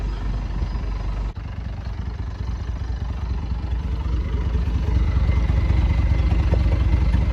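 A dump pickup truck's engine idles nearby in a steady low rumble, holding even and continuous with a brief dip early on.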